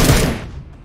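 Burst of gunfire from the PUBG Mobile battle royale game, a loud close volley that trails off over under a second with no talk over it.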